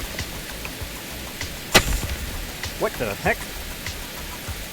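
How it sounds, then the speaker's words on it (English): Heavy rain pours in the video game Enshrouded as a steady, even hiss, while a man briefly exclaims over it and a few short game sounds pop through. "It's downright pouring."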